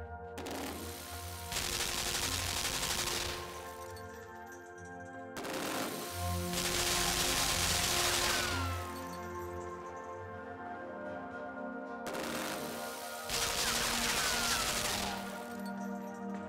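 Turrets in the game Limbo fire on each other in long rapid bursts of loud machine-gun rattle, three sustained volleys separated by short pauses over a low droning background.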